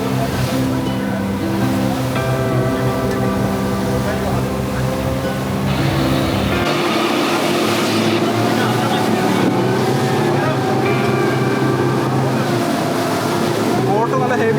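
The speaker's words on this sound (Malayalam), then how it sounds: "നമ്മുടെ ബോട്ട് സ്റ്റാർട്ടായിട്ടുണ്ട് കോറോ ഐലൻഡിലേക്ക് പോകാൻ വേണ്ടിയിട്ട്" A motorboat engine drones steadily on the sea off Thailand's Coral Island, with wind and water rushing, loud and continuous throughout.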